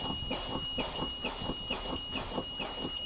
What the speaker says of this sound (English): my low pressure warning light and alarm came on right before 60